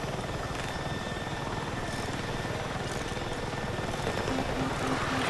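A helicopter in a Battlefield video game sounds as a loud, continuous rotor and engine drone with a steady thudding pulse that stays constant and close throughout, with no voices.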